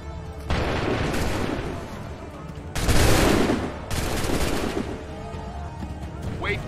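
Massed musket volleys in an Assassin's Creed III battle, three loud, sustained bursts of crackling gunfire in succession, each rolling and fading into the next, with a brief shout at the end.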